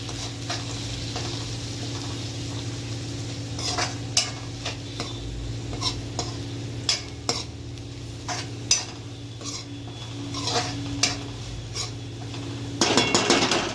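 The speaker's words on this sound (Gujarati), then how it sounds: "ને હવે બધું હલાવી નાખીએ." Onion, red chilli and coriander-cumin spice mix being stirred in a pan, with a steady sizzle under intermittent clinks and scrapes of a spoon against the metal.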